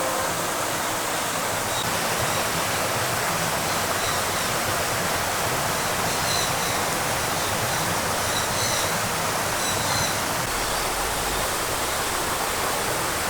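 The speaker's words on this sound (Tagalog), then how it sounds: "Here is the Carmen Cristina Falls Safari." Carmen Cristina Falls at Cebu Safari and Adventure Park, a steady broadband rush of falling water filling the whole stretch, loud and continuous with no voices over it.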